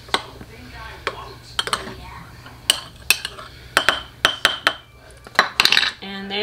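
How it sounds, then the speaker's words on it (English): A spoon stirs ingredients into warm homemade blueberry jelly, giving a series of sharp, close clinks and taps against the container at an irregular rhythm, with soft scraping between strikes. "Get the same spoon you used and just mix it in"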